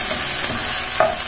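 Tomatoes for corned beef sinigang fry in a pan with a loud, steady sizzle and a brief scrape of stirring, close and without talk.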